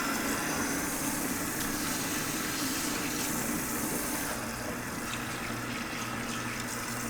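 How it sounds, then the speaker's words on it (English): Cool water runs steadily from a tap with strong pressure, rinsing shampoo out of a Follea wig, a continuous close hiss and splash throughout with no pauses. "now we're going to begin our rinsing process with cool water"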